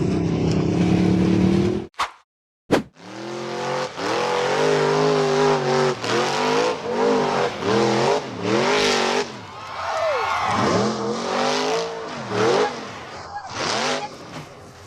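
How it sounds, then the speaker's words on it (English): A gray off-road buggy roars as it accelerates up and over a dirt ridge, its engine loud and close with repeated revving surges. The sound cuts out briefly, then revs again in rising and falling bursts. "The gray buggy accelerated over the dirt ridge and launched into the air."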